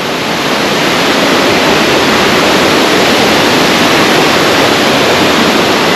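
A mountain stream near a village above Lazarevskoye, Sochi, pours steadily in a loud, dense, unbroken rush of flowing water, with no voices over it.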